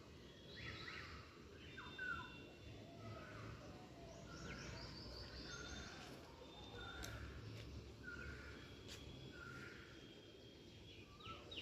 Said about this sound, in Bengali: শোনো কত রকম পাখির ডাক